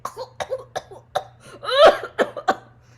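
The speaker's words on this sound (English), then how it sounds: "he started coughing" Someone coughs repeatedly in short, rough bursts, close by, with one harsher, drawn-out hack in the middle.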